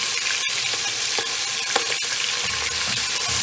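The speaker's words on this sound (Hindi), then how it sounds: "अब इसमें हम कीमा भून लेंगे अपना। कीमे में 1 चम्मच हमने अदरक लहसुन का पेस्ट डालना है और इसको अच्छा सा भून लेना है।" Minced meat fries with ginger garlic paste in a pan, a continuous close sizzle broken by sharp spoon clacks and stirring scrapes.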